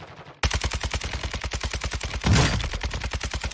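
Sustained automatic gunfire in Warzone 2.0, a loud, close, rapid rhythmic stream of shots starting abruptly, with a heavier blast near the end.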